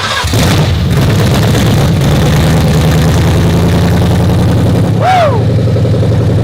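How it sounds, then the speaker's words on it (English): A Gen 3 Coyote engine in a rebuilt truck, running with open headers, gives a loud, close, continuous rumbling idle with a brief rising blip near the end. "Sounds like a Gen 3 Coyote motor with a little extra stuff in it."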